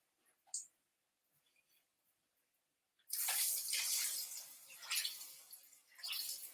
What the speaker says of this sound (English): carefully hold this cutlet and gently drop him in the oil